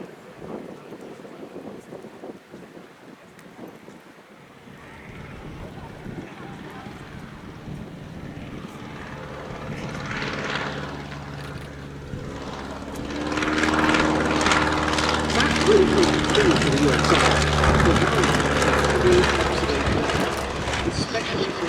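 Engine drone of a vintage L-3 military liaison light aircraft, a Taylorcraft-type observation plane, flying a display at an air show, growing steadily louder and nearer over about twenty seconds, with wind noise and a voice talking over it.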